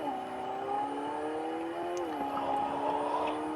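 A car engine drones steadily in Roblox, a sustained revving whine that shifts pitch slightly midway, continuous and moderately loud with no talk.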